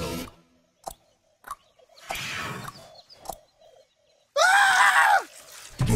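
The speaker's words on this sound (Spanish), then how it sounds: "Ahora viene cuando huyes gritando." A cartoon character in the platform game Crash Twinsanity lets out a loud, wavering scream while running away, close and sustained near the end, after scattered thumps, rustles and short effects separated by near silence.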